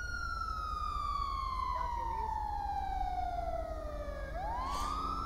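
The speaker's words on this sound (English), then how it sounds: "Sirens." Police sirens wail continuously in the GTA5 FiveM video game, a loud steady tone gliding slowly downward before sweeping back up near the end, over a constant low engine drone.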